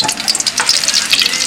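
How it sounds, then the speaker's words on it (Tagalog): Loud, close sizzling and crackling of garlic sautéing in hot oil in a pan for adobo, with brisk stirring scrapes running through the burst and no speech. "magagisa na si mama para sa kanyang adobo. Yan, bawang,"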